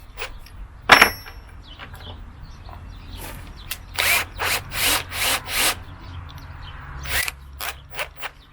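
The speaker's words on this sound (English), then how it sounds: "I'll pre-drill them with a small bit just as a guide" A power drill with a small bit whirs in a series of short, repeated bursts pre-drilling pilot holes into a wooden campervan control panel, with a few clicks and knocks between the runs.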